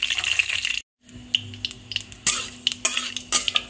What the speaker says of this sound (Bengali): কালো জিরে দিয়ে এটাকে ভালো করে একটু নাড়িয়ে নিচ্ছি তেলটাকে